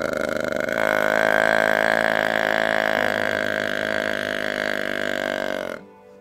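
A long, low, buzzy deer grunt held steadily for several seconds, starting with a rapid rattle of tongue clicks, close and loud, imitated by a voice or call device.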